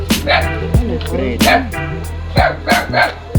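Several sharp dog barks ring out at irregular intervals, close by, at night on a fishing trip, with a steady low hum and some background voices underneath.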